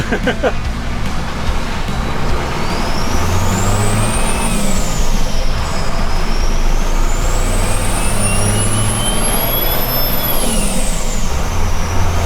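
A Cummins diesel swapped into a 1978 Ford Ranger revving hard, its deep engine roar steady and loud while a high turbo whistle climbs twice, with a voice speaking over it.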